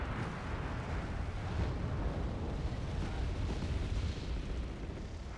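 Rocket strikes exploding in the video game Wargame: AirLand Battle, a dense, continuous rumble of blasts and booms rolling together at steady loudness throughout, with no talking.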